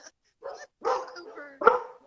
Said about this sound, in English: The dogs wanted to participate too.